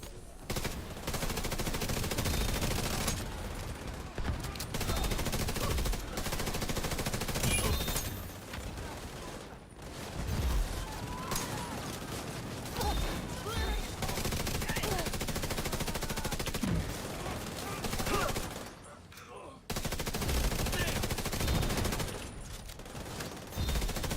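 Video game gunfire crackles in dense, repeated bursts of automatic shooting. Short breaks separate the bursts, and combat noise fills the whole stretch at a moderate level.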